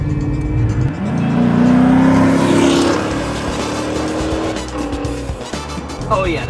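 A former police car, now driven daily, revs hard under full-throttle acceleration, the engine roaring loudly as its pitch sweeps up, then settling into a rougher drone with tire noise; a person talks over it in the car.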